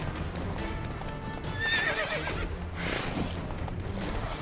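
A horse gallops in The Witcher 3: Wild Hunt, with steady rhythmic hoofbeats and a sharp whinny partway through, heard over faint background game sound.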